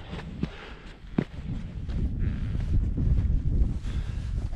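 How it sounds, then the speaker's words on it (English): Wind sweeps across a breezy Scottish hilltop on Ben Vorlich above Loch Earn, producing a continuous low buffeting rumble on the microphone with a couple of sharp gust knocks and no talking. "We're quite breezy up here, we think"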